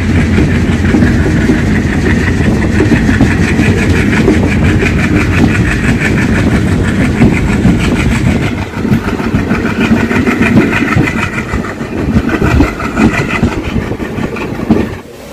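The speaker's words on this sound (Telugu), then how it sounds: "చంద్రగిరి రైల్వే స్టేషన్ డిపార్చర్ చూడండి ఫ్రెండ్స్" A passenger train pulls out of Chandragiri railway station, heard from inside a general class coach on the Tirupati to Penukonda route: a loud, continuous rumble of engine and wheels with steady rattling that shifts and eases partway through.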